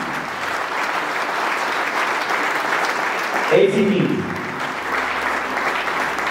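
Audience applause for heroes at an Armenian wedding celebration, a sustained dense wash of clapping from a crowd, loud and continuous, with a voice speaking over it briefly midway.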